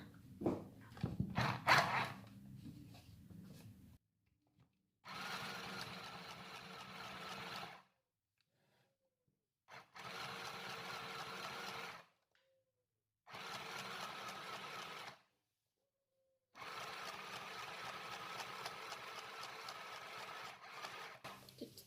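A mini sewing machine whose thread tension is being adjusted for loose stitches runs in four bursts of about three seconds each, a close, buzzing whir separated by short silences, after some handling noise.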